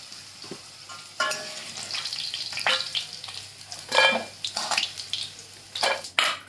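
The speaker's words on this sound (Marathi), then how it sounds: "आता याच्यामध्येच कांदा टाकते. तो चांगला परतून घेते." Onion sizzles in hot oil left from frying potatoes for aloo methi, with a spoon scraping and stirring the pan in uneven bursts over a steady crackle, close and fairly loud.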